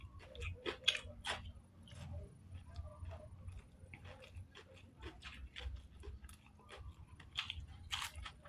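Someone eats a Thai-style meal of chicken and curry, with faint, irregular chewing and crunchy bites repeating close by over a quiet background.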